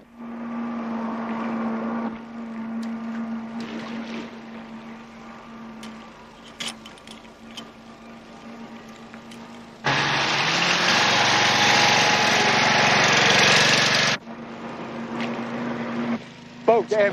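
A motorboat engine approaches, a droning hum that swells abruptly into a loud, harsh roar for several seconds before cutting back, with a low steady tone underneath beforehand.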